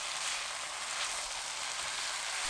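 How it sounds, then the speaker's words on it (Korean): Hijiki stir-frying over high heat with mirin, soy sauce and oyster sauce, a continuous even sizzle close up, steady and unbroken without any talk. "톳, 미림 3큰술, 진간장 1큰술, 굴소스 3큰술 넣고 센 불로 1분 30초 볶아주세요."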